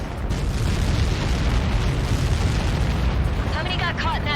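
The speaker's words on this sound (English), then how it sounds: "How many got caught in that explosion?" A Helios projectile impact explodes in the Ace Combat 7 flight game, a loud, sustained roaring blast that fills the whole stretch, with a voice briefly breaking in near the end.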